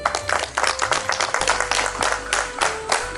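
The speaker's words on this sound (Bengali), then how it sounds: "জোরে একটা হাততালি হোক।" An audience at a Bengali stage show with Bharatanatyam and Kathak dance bursts into loud applause, a dense, lively clatter of many hands clapping, close and steady throughout.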